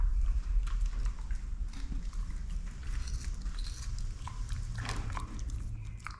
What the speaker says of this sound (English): as long as she's got something to chew